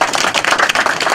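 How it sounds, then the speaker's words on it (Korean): Brief burst of clapping from a graduation ceremony audience at a Korean theological seminary as a scholarship is presented, a quick patter of hands close by. "박수 좀 쳐주세요."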